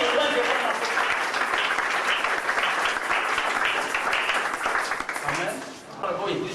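Church congregation applauding and cheering the Lord, a dense, loud wash of clapping and voices sustained throughout before thinning briefly near the end.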